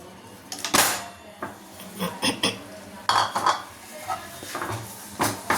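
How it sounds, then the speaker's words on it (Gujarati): A metal spoon scrapes and clinks against a pan while crushed dates are stirred into a thick paste, irregular knocks and scrapes close by, some sharp, with a quiet background. "મિક્સ કરતા રહીશું, હલાવતા રહીશું, એટલે એનો સરસ એવો માવો બની જશે ફ્રેન્ડ્સ"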